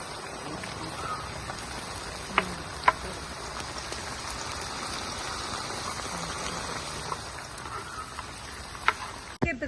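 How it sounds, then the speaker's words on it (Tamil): Onions frying in coconut oil in a kadai, giving a steady, fine crackling sizzle throughout with a few sharper pops standing out, fairly quiet and without talk. "நல்லா பொரியணும் வெங்காயம் ப்ரௌனாக ஆகணும்"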